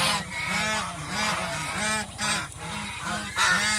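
Farm ducks give a rapid run of loud, nasal honking calls close by. The calls repeat in quick succession with short gaps and no voices.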